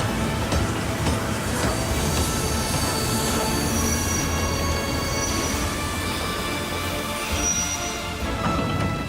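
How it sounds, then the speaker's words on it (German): A train pulling into Stuttgart station, its wheels squealing loudly with high metallic tones over a rumbling, clattering undercarriage, continuous and close. "Der Zug endet hier."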